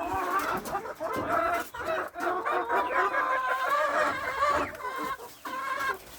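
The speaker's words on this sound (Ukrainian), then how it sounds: "тут у мене чубаті. П'ять курочок і півник." Several crested hens cluck and chatter continuously at close range, their calls overlapping in a busy, steady stream with occasional brief pauses.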